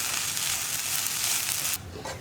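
Curry stirred in a pan over a high flame, a steady broadband sizzle with faint scraping that holds close and even, then drops away abruptly near the end.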